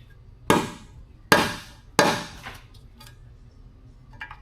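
Three sharp hammer taps on metal, tapping a Miata front main seal into place, evenly spaced and close, followed by a few faint clicks in a quiet room.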